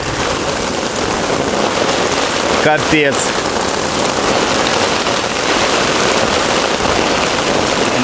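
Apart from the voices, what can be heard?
heavy spring rain during thunderstorm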